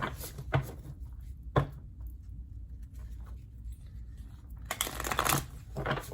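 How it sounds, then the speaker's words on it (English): Quick riffling bursts of tarot cards being shuffled, several separate flurries spaced apart, close and fairly quiet, with no talking. "let's shuffle"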